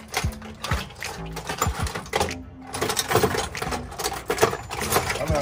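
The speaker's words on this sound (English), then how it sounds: "He's digging through his cereal bowl of tools" Metal hand tools rattle and clink as someone digs through a bowl of them for a socket during a brake and rotor install, with busy, close, irregular clattering throughout.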